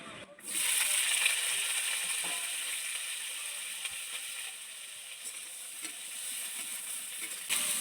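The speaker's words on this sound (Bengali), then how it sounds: "বেগুনগুলোকে ভেজে নেব" Eggplant pieces frying in oil, a bright continuous sizzle starting abruptly and holding steady, with occasional small clicks and scrapes of stirring near the pan.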